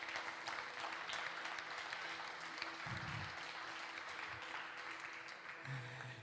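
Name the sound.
congregation applause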